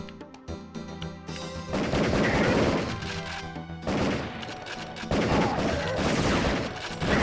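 Sustained automatic gunfire comes from the video game Area 51, loud and dense, with bursts that swell and restart several times over a backing of game music and crashing impacts.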